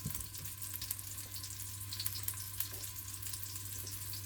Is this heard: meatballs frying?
yes